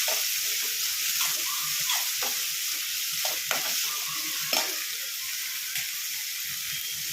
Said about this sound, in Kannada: ಟೊಮೊಟೊ ಹಾಕಿ ಫ್ರೈ ಮಾಡ್ತೀನಿ.